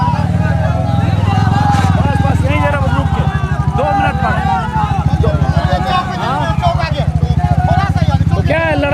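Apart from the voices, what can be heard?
motorcycles of an election campaign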